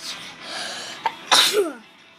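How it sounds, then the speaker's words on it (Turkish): A single sharp sneeze bursts out near the mic after a faint short intake, following a quieter stretch of background sound. "Hapşırıyoruz."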